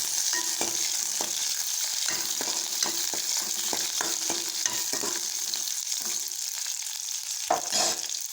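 Large onions and chilies sauté in hot oil with popping mustard seeds, a continuous bright sizzle broken by repeated scraping stirs at a regular rhythm, with a slightly louder stir near the end and no voices.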